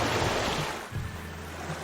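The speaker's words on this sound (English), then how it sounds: "You see some waterfalls before actually going down" A waterfall splashes steadily beside a flume ride winding through caves in Planet Coaster 2, giving a continuous close rush of falling water that stays fairly loud and even throughout.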